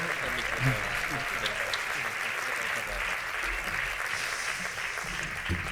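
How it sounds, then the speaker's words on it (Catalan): Audience applause at a Carnaval de Solsona show, dense continuous clapping at a steady level from start to finish, with a few voices and cheers mixed into the crowd noise. "Que duri l'aplaudiment, que ha de baixar."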